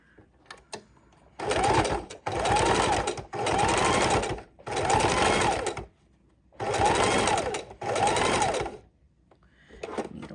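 Close, loud bursts of a sewing machine stitch trim or lace onto a junk journal cover, about six even runs of fast whirring broken by brief stops to turn the work.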